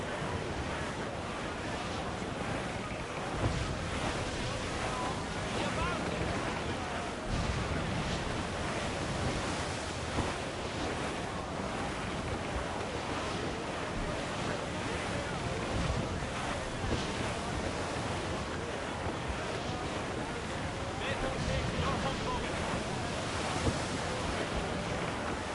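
Stormy wind roars and ocean waves surge at sea in a PS4 sailing game during a squall, a dense, continuous wash of wind and surf that holds steady throughout.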